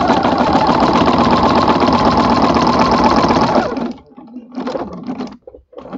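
A sewing machine fitted with a walking foot stitches through a quilt in a steady, close, continuous whir, then stops abruptly, leaving softer handling noises.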